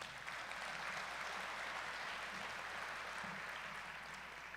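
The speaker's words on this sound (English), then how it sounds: "Let's give another round of applause for those amazing nominees." At a local business awards ceremony in St. Thomas, the audience applauds the nominees, a faint, distant, even patter of many hands that holds steady throughout.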